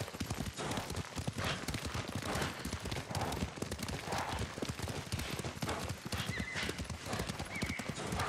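Horse hooves clip-clop at a steady gallop in Ghost of Tsushima, with a whinny breaking through, loud and continuous throughout under layered game ambience.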